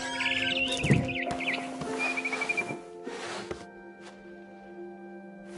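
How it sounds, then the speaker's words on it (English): Bright, high barn swallow chirps and whistled calls in short bursts over a steady electronic hum, with no talking, from the video game What Remains of Edith Finch. "Then I heard chirping outside my window."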